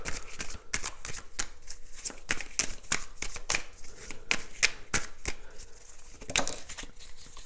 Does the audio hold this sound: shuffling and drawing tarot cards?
yes